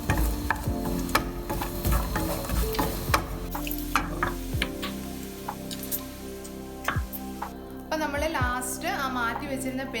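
Coconut pieces and curry leaves fry in hot oil for a Kerala crab roast, giving a steady sizzle with stirring clatter and utensil taps, while a voice speaks briefly near the end.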